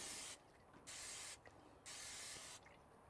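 Three short bursts of hissing cooking spray on bread set on a grill, close and crisp, separated by brief pauses.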